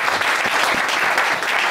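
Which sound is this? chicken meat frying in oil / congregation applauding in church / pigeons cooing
congregation applauding in church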